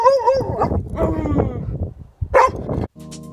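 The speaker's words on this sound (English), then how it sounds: "See, barking is sound." A dog barks and whimpers in short, irregular bursts close to the microphone, mixed with a few yips.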